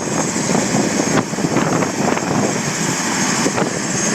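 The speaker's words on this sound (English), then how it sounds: "So there's a plane taking off over there." A plane takes off at Hilo Airport, a steady, loud engine drone with propeller hum that holds throughout, heard from across the airfield with no talk over it.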